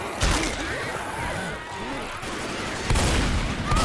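Shotgun and rifle fire crack through a Left 4 Dead 2 zombie fight, with sharp loud blasts near the start and again toward the end over a busy background of game noise and players talking.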